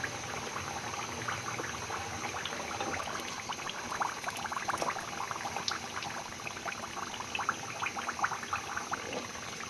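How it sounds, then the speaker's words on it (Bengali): Milk pakon pitha cakes frying in hot oil, a continuous soft bubbling and hissing sizzle, fairly quiet and steady throughout with no voices. "এক এক করে একটু একটু করে পিঠা দিচ্ছি আর একটু একটু করে ভাজা শুরু করেছি।"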